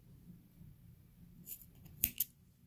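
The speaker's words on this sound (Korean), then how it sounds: "끝부분을 가위로 잘라주세요" Two quick, crisp snips of scissors trimming the ends of thread for a knotted two-color ring, close and quiet in a still room.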